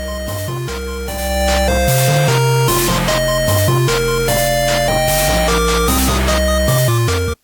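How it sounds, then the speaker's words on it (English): Spacey electronic background music for a video game, composed in Ableton: layered synth tones and chords over a steady pulsing beat, loud and continuous, cutting off abruptly at the end. "I got my background music, which I wrote in Ableton, and it sounds like this."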